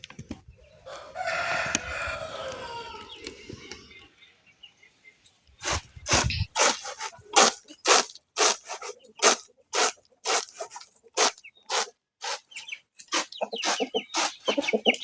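Village chickens clucking and a rooster crowing: a long crow at first, then a rapid series of sharp, evenly spaced clucks and calls, close and loud, with little other sound around.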